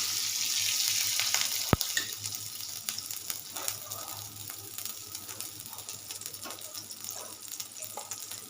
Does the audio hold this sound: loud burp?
no